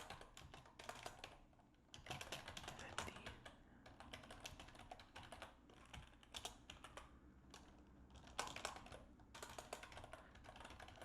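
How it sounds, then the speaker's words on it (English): Steady typing on a computer keyboard, quick bursts of key clicks with short pauses, close and fairly quiet, with no voices. "the sound of me typing"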